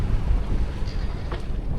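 Sailboat under way in steady wind at golden hour off Hawaii, with a constant low rush of wind buffeting the microphone and water noise throughout.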